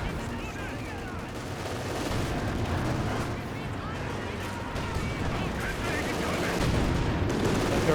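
Rifle and machine-gun fire mixes with mortar blasts during a Company of Heroes battle involving Panther tanks, a dense and constant roar of shots and explosions, while someone talks over the fighting.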